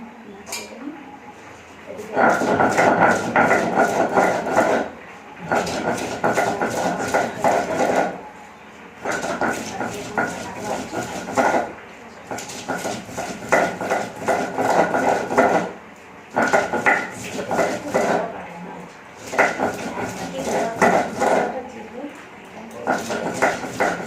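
A knife chops potatoes on a board in a home kitchen, a fast, steady run of close, sharp knocks that comes in several bursts with short pauses between them.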